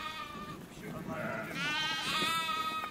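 Sheep bleat loudly and repeatedly at a nomadic Yörük herders' camp in the Taurus Mountains, with overlapping wavering cries close by and a second animal joining in, over a low outdoor background.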